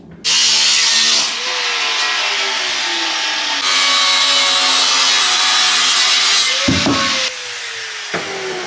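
A power tool grinds steadily through an aluminum forklift thermostat housing, loud and close, its whining pitch sagging and shifting under load before spinning down near the end with a couple of knocks.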